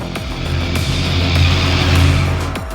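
A supercharged small-block V8 in a 1957 Chevrolet Bel Air pulls under load while driving, a loud, steady, rumbling engine roar that swells slightly with a couple of short gear-change dips, with no talk.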